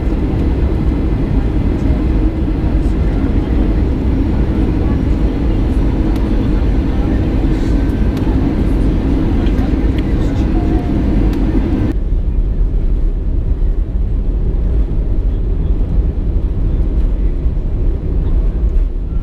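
Airplane taking off from Phuket International Airport, heard from inside the cabin as a loud, steady, broadband engine and airflow roar that continues throughout, dropping in high-frequency hiss partway through.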